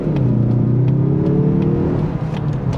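Mazda 2.5 turbo car accelerating at full throttle, a loud close engine drone whose pitch climbs steadily, with intermittent ticks over the rising whir.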